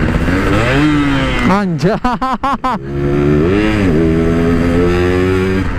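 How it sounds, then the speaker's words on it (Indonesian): Yamaha RX King two-stroke motorcycle left in neutral after a missed gear, its engine blipped in a rapid burst of sharp revs between steadier idling drone, loud and close, with a brief spoken exclamation. "Over gigi malah netral jadi ngegeber"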